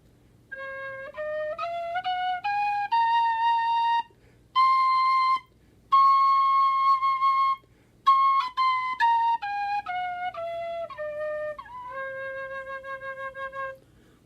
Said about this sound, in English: This is the scale of C.